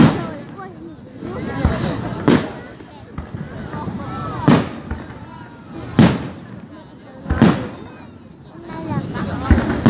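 Fireworks at a 2018 display, heavy booming blasts roughly every two seconds over a continuous crackling, rumbling background, loud and nearby with crowd noise mixed in.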